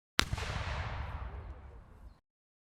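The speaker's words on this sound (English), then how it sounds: "1 cannon shot can be heard in the distance." A single cannon shot from a Hunger Games simulator game sounds as a sharp boom that rolls into a long, fading rumble and stops abruptly, with no voices.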